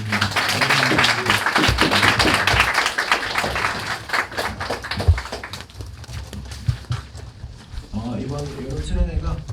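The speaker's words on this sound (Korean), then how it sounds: "감사의 박수를 한번 보내드립니다" A crowd applauds at a high-school youth summer retreat service, sustained clapping that is strong for about six seconds before thinning out, with a voice speaking near the end.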